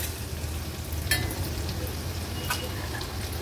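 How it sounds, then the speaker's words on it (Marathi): Crushed ginger, garlic and chili paste sautés in hot oil, giving a steady, even sizzle with a couple of faint metallic clinks from the pan along the way. "आलं लसूणचा क्रश तेलावर थोडासा परतून घ्यायचा आहे।"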